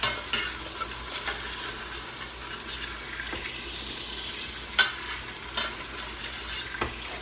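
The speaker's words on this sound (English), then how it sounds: "you could sear it a little more, some people do" Beef sizzling and searing in a pan as stew meat browns, a steady broad frying hiss with a few sharp crackles and pops scattered through it, fairly close and moderate in level, with no talking.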